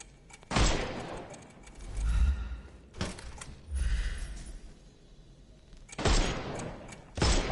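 Bursts of gunfire in a video game as a player shoots the armour off enemies, with four loud volleys separated by quieter stretches of rumbling noise.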